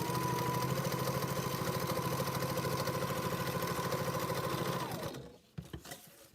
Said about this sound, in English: when I come back to the machine and continue sewing at the halfway point